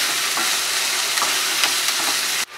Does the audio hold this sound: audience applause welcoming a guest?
no